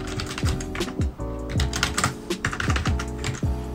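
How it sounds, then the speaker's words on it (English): Close, crisp keystrokes on a computer keyboard as a test label is typed for a Brother QL-700 thermal printer, forming a quick, steady run of sharp clicks. "Let's say we type something"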